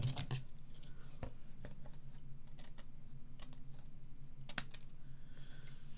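Scissors trim a paper border from behind on a large tag-style folio, making a few quiet, close, crisp snips and light rustles with short pauses between them.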